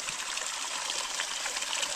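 Cold mountain spring water gushes from rock at a fountain at about 1000 metres altitude near Noceda, León, a steady, close, continuous rushing splash without speech.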